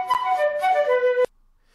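Short melodic motif from Bach's Badinerie played as a few clear sustained tones stepping downward, a brief phrase of about a second ending abruptly, then silence.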